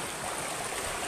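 Kinalaha Falls in Caibiran, Biliran pours in a steady, broadband rush of falling water, dense and continuous with no voices over it.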